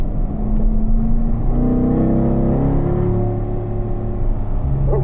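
A Corvette on a race track accelerates out of a corner, its engine note climbing steadily in pitch with a strong, continuous drone; the sound is loud and close, as heard from inside the car.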